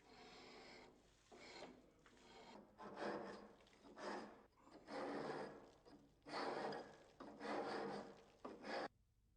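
A hand scraper gouges grooves into Ytong aerated concrete, making rhythmic rasping strokes, each a rough scratchy burst about a second long separated by short pauses, close and fairly quiet.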